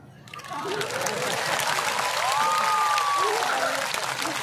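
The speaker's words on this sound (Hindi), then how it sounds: "आप लोग ताली मारो" A crowd claps steadily and enthusiastically, a dense wash of applause that swells and holds, with a voice calling out over it.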